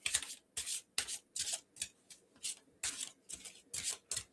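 Tarot cards are shuffled in quick repeated riffles, a rhythmic series of crisp papery bursts at close range with brief pauses between.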